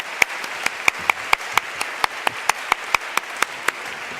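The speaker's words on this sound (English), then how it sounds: "Can I have a big hand, big applause?" Applause at the close of a talk with Laszlo Bock on his book Work Rules!: crisp, evenly spaced, close claps repeating at a brisk, steady rhythm, sounding like only a few hands.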